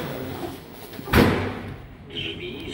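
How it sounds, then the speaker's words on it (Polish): Hospital lift doors slide shut with a short thud in the middle, followed by quiet hum and a faint high electronic tone from the newly modernised elevator. "Drzwi zamykają się."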